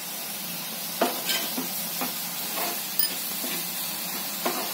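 Oil sizzles in a pan with salt while chili thecha is made, a steady hiss under several scraping stirs and clacks of a spoon against the pan, up close and without talk.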